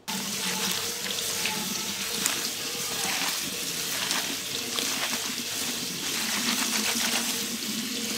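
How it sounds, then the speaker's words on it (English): Tap water pours steadily into a strainer of cabbage at a kitchen sink, a close, continuous splashing rush that holds an even level throughout. "I'm gonna put my cabbage into my strainer and just rinse it off really well"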